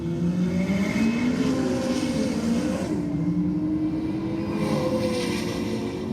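A Holden VF and a turbocharged Toyota Hilux sleeper roll racing, engines droning loudly and rising in pitch as they accelerate, the tone dipping at a gear change before climbing again; no talking.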